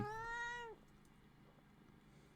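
A cat meows once, close and loud, in a long rising-then-falling cry demanding to be fed, followed by quiet room tone with a faint click at the end.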